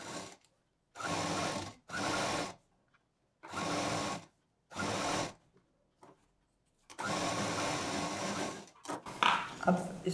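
A sewing machine stitches a soft baby quilt in several separate bursts of steady whirring, each lasting about a second, with short pauses between them and a longer run near the end.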